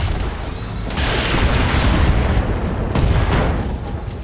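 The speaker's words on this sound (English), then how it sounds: "Ammo explosion takes him out." An ammunition explosion destroys a mech in the BattleTech game: a loud rumbling boom that swells at about one second, roils on through the clip and flares again near three seconds, with no talk over it.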